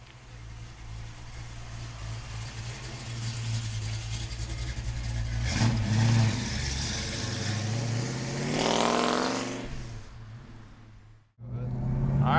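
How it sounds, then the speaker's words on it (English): A 1965 Ford Mustang Fastback engine drives and revs, its rumble rising and falling through several accelerations before a sharp cut-off and restart near the end, heard close and loud without talk. "Let's go for a ride in our Mustang Fastback."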